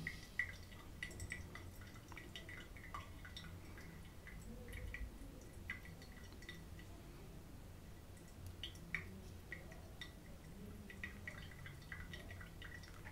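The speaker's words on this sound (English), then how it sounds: "you can guess how much water is still in the coffee by just listening the drips in the server" Brewed coffee dripping from a Hario V60 into a glass server: a very quiet, irregular series of small drips and splashes spread over several seconds, with no voice.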